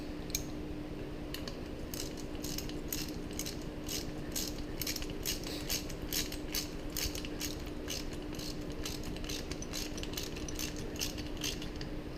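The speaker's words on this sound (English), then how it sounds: "Crank it down so that it's tight." A ratchet tightens a bolt on a Jeep Wrangler JK pulley during a serpentine belt replacement, giving a steady run of rapid, evenly spaced metallic clicks over a constant low background hum.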